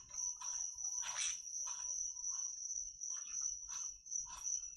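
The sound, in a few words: crickets chirping in a video game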